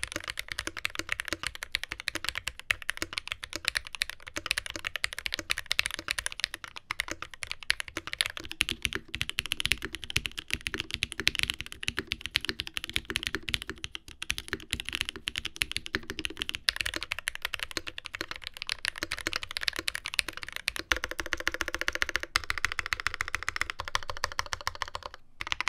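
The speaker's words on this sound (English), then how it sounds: "So I do like the sound of this board." Steady, continuous typing on a NovelKeys NK87 aluminum TKL mechanical keyboard, close and clear with a slightly hollow clack, rapid keystrokes running throughout without talk.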